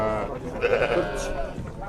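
Sheep, a ewe with lambs, bleat at a busy livestock market in Sokuluk, a short wavering call up close amid crowd noise and talk.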